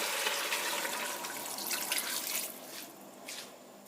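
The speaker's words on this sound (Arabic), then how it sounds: "ادير المي هسه" Water is poured into a pot over fried meat for an Iraqi tarshana dish, a steady splashing pour that gradually eases and thins toward the end.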